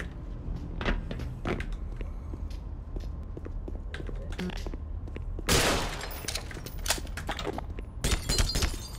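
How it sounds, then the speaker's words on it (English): Gunfire in Black Mesa: Xen crackles in scattered sharp bursts, with a few louder, denser volleys near the middle and end. "Gunfire means nothing here."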